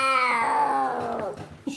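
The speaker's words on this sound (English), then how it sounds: "She sounds like cats fighting." A strained, wavering voice-like wail resembling two cats fighting, rising and falling in pitch over a second or so before breaking off, loud and close.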